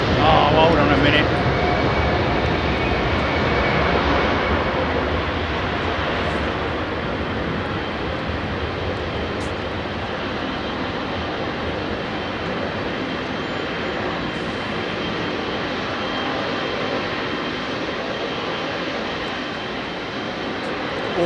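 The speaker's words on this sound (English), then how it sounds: "Awesome sounds because of the engines on that 764 CF6." A Boeing 767-400 with CF6 engines at Heathrow Airport roars steadily in a loud, broad, sustained rumble for the whole stretch, heard from outdoors without any break.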